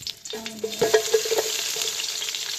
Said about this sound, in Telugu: ముందుగా ఆయిల్ వేసి కాస్త కరివేపాకు